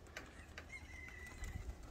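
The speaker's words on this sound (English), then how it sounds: "Look at these guys, there's just birds going everywhere" A flock of pigeons, many of them young birds, is heard from a distance over a steady outdoor background, with faint cooing and a thin high call but no clear wing flutter.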